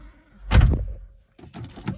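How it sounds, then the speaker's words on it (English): A BMW M135i Steptronic's car door is pulled shut with a single solid, close thud, followed by faint rustling inside the cabin. "let's just shut that door properly."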